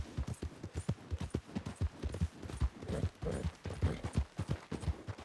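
Horse hooves clip-clop in the video game Red Dead Redemption 2, a steady, rhythmic run of hollow thuds at moderate distance with nothing else prominent.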